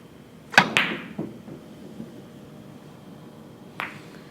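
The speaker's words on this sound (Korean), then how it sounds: "얇게 세게 때립니다" A billiard cue strikes the ball thin and hard during practice: a sharp close click, a quick second ball-on-ball clack, and a fading rattle, then one more crisp knock a few seconds later, with no talking.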